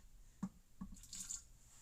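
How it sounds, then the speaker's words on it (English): A small splash of water, about a tablespoon, going into a pan during zucchini pasta cooking, heard as a couple of soft close drips followed by a brief hissing trickle at low volume. "Going to add about a tablespoon of water just to help it along"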